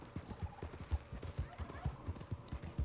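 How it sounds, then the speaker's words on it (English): Horse hooves beat in a quick, regular clip-clop in Red Dead Redemption 2, close and distinct, with a brief whinny-like call in the background. "Press left analog stick to calm down the horse."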